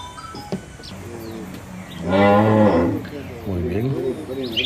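A young calf on a dairy farm in rural El Salvador gives a loud, drawn-out moo lasting about a second, preceded and followed by quieter lowing and faint farm background.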